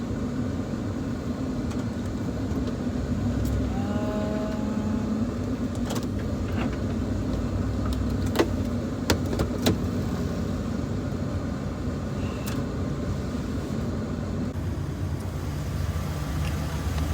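A car passing on a road heard from inside a parked camper van with a fan running, a broad steady roar with a few sharp clicks and knocks, no talking.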